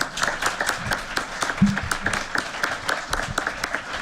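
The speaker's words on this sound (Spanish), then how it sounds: "Pido un aplauso a los panelistas" Applause for the panelists at the close of an academic panel on gender and justice at IIJ-UNAM, a moderate audience clapping with distinct individual hand claps audible in an even, steady patter.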